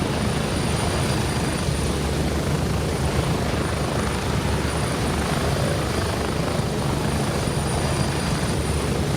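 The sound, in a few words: helicopter being called in, in a video game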